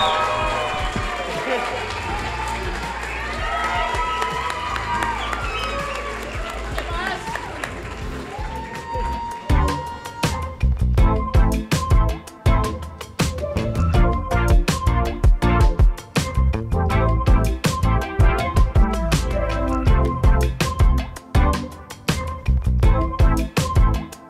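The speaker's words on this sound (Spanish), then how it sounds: "Por favor, reciban con un aplauso a Aleja y La Grúa." Studio audience bursts into loud applause and cheering for two podcast guests, dense clapping running steadily after an opening stretch of voices and chatter.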